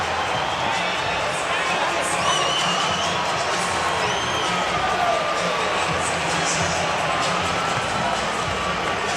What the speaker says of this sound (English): Listen to this crowd here at the American Airlines Center.